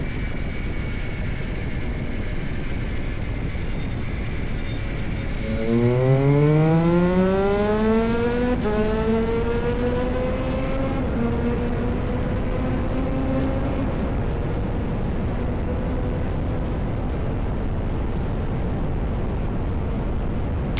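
Yamaha R9 motorcycle pulling hard in second gear from a 40–50 mph roll-on, engine note sweeping steadily upward in pitch through the rev range over steady wind and road roar, no voices.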